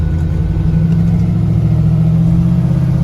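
A classic 1954 Ford F100 pickup truck drives along with a steady low engine drone and road rumble, heard from inside the cab at an even level.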